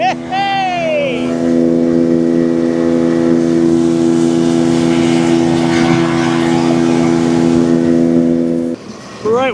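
A motorboat engine runs on a lake as a loud, steady drone close by, with a brief whoop of voices at the start and the drone dropping away near the end.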